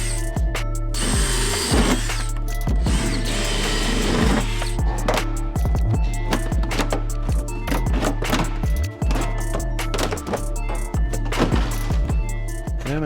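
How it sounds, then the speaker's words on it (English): Power drill with a 3/8 bit bores out plastic retaining clips during a Toyota Tacoma oversized tire fitment kit install, giving repeated whirring bursts with pauses and clicks between, close and loud. "just drilling those out with a 3/8 drill bit, it drills out the plastic and then it just pops out really easy"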